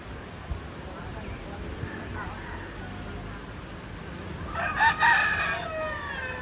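A rooster crows loudly and close by in a rural yard where many birds gather after rain, a sharp, rising call near the end over a steady hiss of background noise, with faint earlier clucks.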